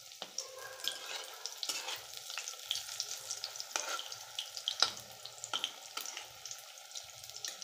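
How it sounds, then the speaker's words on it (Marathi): Idli pieces deep-frying in hot oil, a steady close sizzle with crackling bursts and occasional stirring scrapes, no voices. "ते इडलीचे काप सोडून खरपूस तळून घेऊया."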